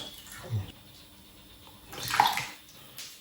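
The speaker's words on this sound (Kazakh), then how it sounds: "Енді оның үстіне мына холодильнигіміздің суын құйып шығамыз." Cold water from the refrigerator is poured over beef-foot aspic, giving two brief splashing gushes, a short one early and a longer, louder one near the end, with quiet gaps between.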